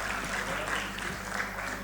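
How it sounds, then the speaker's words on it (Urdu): A live audience at an awards ceremony claps steadily throughout, a dense, even wash of applause with a faint voice underneath. "ان سب کے لیے بھرپور ایک دفعہ تالیاں بجا دیں"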